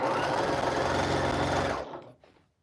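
A sewing machine runs fast and steady while stitching a scrappy Valentine's Day quilt, a loud close mechanical whir that winds down and stops near the end.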